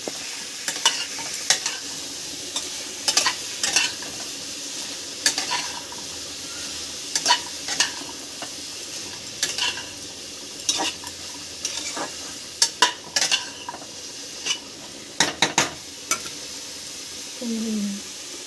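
Chicken pieces for a Bengali-style chicken stew stir-fry in a little oil in a pan. A steady sizzle runs underneath, and a spoon scrapes and clatters against the pan in irregular bursts throughout, with no one talking.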